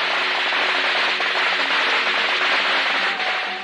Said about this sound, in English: Strung it up in the tree and lit the firecrackers off.